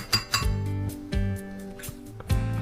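A tablespoon knocks and clinks against an avocado shell and a dish as the flesh is scooped out for guacamole, with several short, close clinks spread across a kitchen prep setting.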